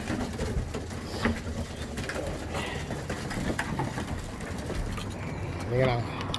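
Pigeons, young and old birds kept in a loft, give soft throaty coos amid a busy background of rustling and fluttering, with a clearer coo near the end.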